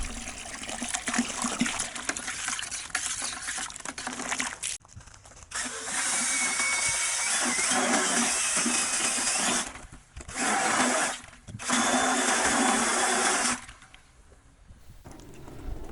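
Clay and water being mixed and agitated in a bucket, a loud churning, sloshing roar in long bursts separated by short pauses, with no talk.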